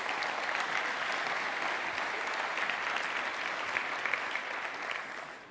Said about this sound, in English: I want to give applause to all the startups here.